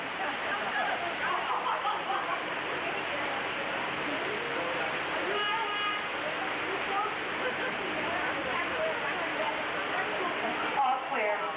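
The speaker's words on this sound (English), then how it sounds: "Now, when those gates open, that's actually the flash flood." Released floodwater roars down Catastrophe Canyon at Disney-MGM Studios in 1989, a continuous dense rush of water as steady broadband noise, with a voice talking faintly underneath.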